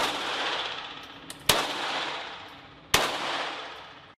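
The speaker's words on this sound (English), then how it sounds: "I enjoy shooting." Two sharp, loud gunshots fired at an outdoor shooting range ring out about a second and a half apart, each with a long decaying echo over steady background noise.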